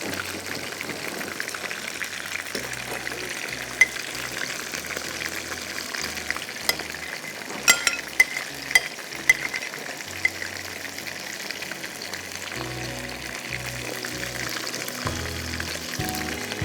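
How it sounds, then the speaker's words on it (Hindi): Shrimp fry lightly in hot oil, giving a continuous dense sizzle with scattered small pops and crackles that stays steady from start to finish, with no one speaking. "फिर दूसरी दफ़ा जब करेंगे तो थोड़े वो क्रिस्पी हो जाएंगे"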